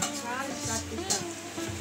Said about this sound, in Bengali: ওদিকে মাছ ভাজা।